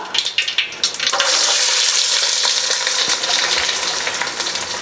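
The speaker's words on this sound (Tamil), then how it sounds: "நான் சின்ன வெங்காயம் வந்து ஒரு 200 கிராம் வந்து கட் பண்ணி வச்சுக்கிறேங்க, அதை போட்டுக்கலாம்." About 200 grams of cut small onions drop into hot oil with mustard seeds for a coconut-milk fish curry. A few sharp clatters give way to a loud, continuous sizzle that then crackles on steadily.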